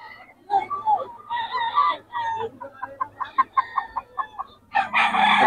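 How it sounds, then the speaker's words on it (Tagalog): Chickens at a market cluck and squawk close by in a busy stretch of short, repeated calls, with a louder burst of crowing-like noise at the end. "Lebron, namimili ng manok."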